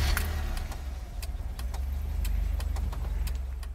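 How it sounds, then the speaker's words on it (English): A Mazda Miata engine idles steadily up close, with a low, even rumble and faint rhythmic ticking throughout, warming toward operating temperature. "So step one is to just start the car and get it up to operating temperature."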